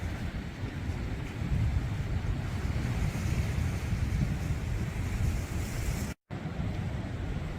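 Surf rolls steadily at Emily Bay beach on Norfolk Island, a continuous broad wash of waves mixed with wind rumble on the microphone, with no voices.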